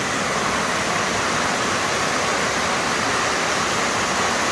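Creek water flows in a steady, dense rushing wash, close and constant without pause.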